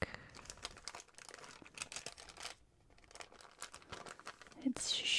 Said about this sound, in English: It's a waxed paper bag.